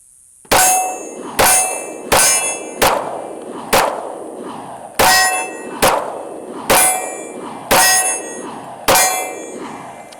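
Ten .40 Smith & Wesson pistol shots ring out at a steady, slightly uneven pace, each sharp report followed by a bright metallic clang from rounds striking a steel target, loud and close with no talking.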